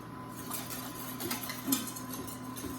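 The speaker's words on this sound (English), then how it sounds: "Gonna give this a little stir." A whisk stirs cream cheese pastry cream in a pot on the stove, making steady, repeated soft metallic scrapes and light clinks against the pot over a low background hum, with no talking.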